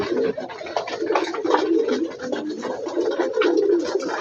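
Pigeons cooing at a small home pigeon farm, a dense overlapping chorus of soft throaty coos from several birds, close and steady throughout with no talking.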